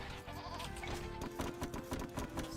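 Sheep bleating in the video game Age of Empires II, short calls mixed into a dense, busy game soundscape with music and effects.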